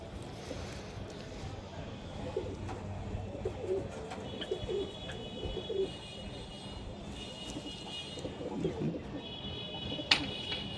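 Desi high flyer pigeons with closed tails coo softly in the background, low murmuring calls that recur through a steady ambient hiss with occasional sharp clicks.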